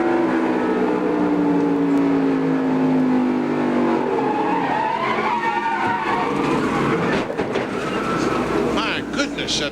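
A NASCAR stock car at New Hampshire Motor Speedway in 1996, heard from an in-car camera, roars loudly as its engine pitch drops while it skids and slams into the wall, with race commentary talk over the noise.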